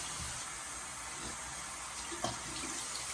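Water running at a bathroom sink as a rag is soaked, a steady close splashing hiss with a brief louder splash partway through.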